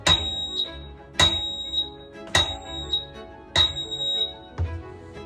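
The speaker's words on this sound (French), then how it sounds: "Et là, j'ai en plus le buzzer." A bright electronic game buzzer from a High Voltage game sounds in short repeated bursts, each starting with a sharp onset and ringing briefly, about one per second, loud and close.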